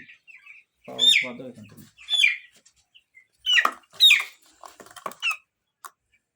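A large broiler chicken being handled for weighing gives several short, high squawks and chirps in irregular bursts, with quiet gaps between them.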